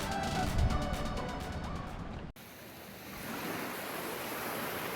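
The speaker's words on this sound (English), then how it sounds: "Water's just ripping through it." Water rushes hard through Midnight Pass, a reopened tidal inlet by Turtle Beach Campground, as a steady roaring surf wash with wind buffeting the microphone; a sharp break splits the sound partway through.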